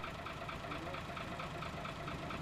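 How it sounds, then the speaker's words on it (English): Military truck engines of an armoured column idle with a steady, low rumbling drone, the continuous mechanical throb faint and unchanging throughout. "engines are being fired up"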